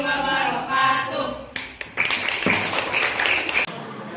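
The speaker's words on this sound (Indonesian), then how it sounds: "tepuk tangan untuk kita semua" A group of people in a classroom gives a burst of hand clapping that rises suddenly and continues for a couple of seconds before stopping abruptly, with speech just before it.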